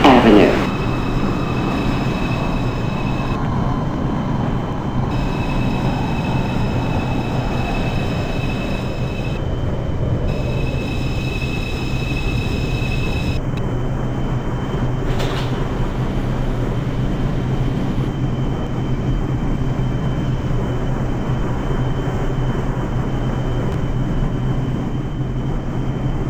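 A Manhattan-bound NYC subway 2 train in the openbve train simulator game runs steadily with a continuous low rumble and rail noise, a brief tonal whine at the start and a sharp transient midway, with no talk heard.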